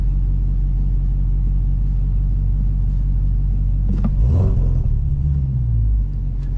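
A Dodge Challenger Hellcat Redeye Super Stock launches from drag strip lights using launch control. A steady low idle rumble builds into a loud, sudden surge of revving engine roar as the car pulls away, then the noise eases off.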